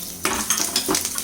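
Green chilies, a broken dried red chili, curry leaves and a pinch of asafoetida stirred in hot oil in a pan for lemon rice, with several scraping strokes and clinks of a utensil over a steady sizzle.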